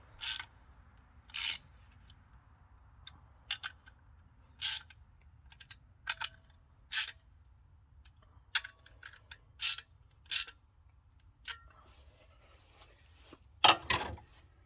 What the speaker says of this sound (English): ratchet with 13mm. I'm sorry, 11mm socket. Snug these down.